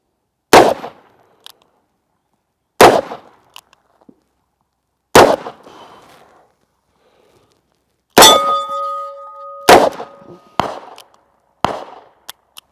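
Colt Trooper Mark III .357 Magnum revolver fired at 2-liter bottles: about seven sharp, loud shots spaced irregularly, some followed by short ringing tails and one by a sustained ringing tone, with silence between.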